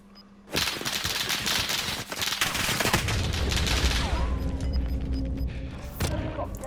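A loud, dense volley of automatic gunfire in a Warzone Pacific gunfight, opening with a sudden burst and continuing as overlapping rapid shots and booms, with scattered later pops as the exchange trails off.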